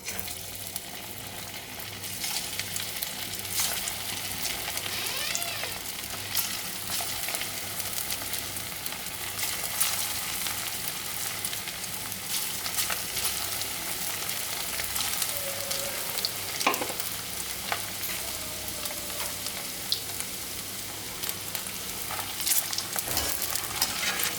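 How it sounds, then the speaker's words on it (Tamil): Mutton kola urundai balls deep-fry in hot oil, a dense, continuous bubbling sizzle that holds steady and close for the whole stretch, with faint scrapes now and then and no voices. "எண்ணெய் சூடு ஏறியாச்சு இப்போ நம்ம ஃப்ரை பண்ணி எடுத்துக்கலாம்"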